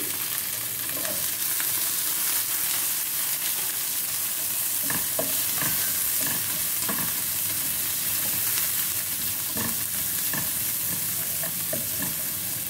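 Onions sizzle steadily in a pan over low heat while a utensil stirs them, with scraping clicks coming through at irregular moments. The continuous frying hiss stays close and fills the whole stretch, with no talking.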